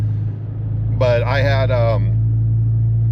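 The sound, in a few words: Ford Maverick 2.0 with Thermal R&D exhaust driving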